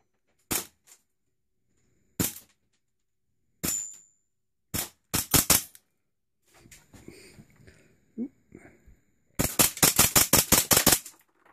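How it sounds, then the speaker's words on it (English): Ace 1 Arms SAI slide pistol firing in sharp, loud single shots: one, then another, a pair, a quick burst of four, and a final rapid string of about nine, with faint rustling between shots. "I'm going to fire this on camera so you guys can see how it functions"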